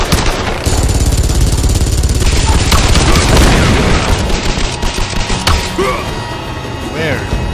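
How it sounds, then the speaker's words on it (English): Gunfire in the Xbox 360 multiplayer mode of Tomb Raider comes as loud, dense booming shots, a continuous barrage early on that thins into scattered cracks and whooshing effects toward the end. "Where are those shots coming from?"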